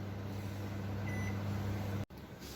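A Panasonic NN-CD86JD microwave oven running on low-power grill setting gives a steady low hum with a continuous whir, cutting out abruptly near the end before resuming.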